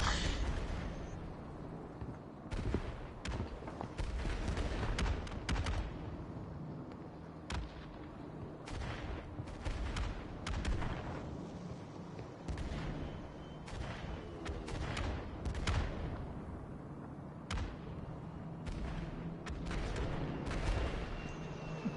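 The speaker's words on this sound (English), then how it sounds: "You went straight through the explosion to me." Repeated explosion blasts in the Golf With Your Friends video game, a dense run of booming bursts and crackling bangs filling the whole stretch, loud and close with no voices over them.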